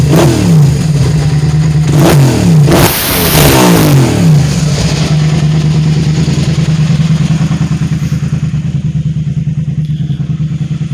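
A motorcycle engine runs in winter, loud and close, with a couple of sharp throttle blips early on before it settles into a steady, throbbing idle.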